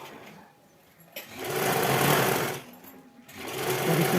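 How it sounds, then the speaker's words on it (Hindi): A sewing machine runs in two close, steady bursts of stitching while a blouse is sewn, with a short pause between the runs and no talking. "एक सिलाई और लगा लूँगी डबल यहाँ पे"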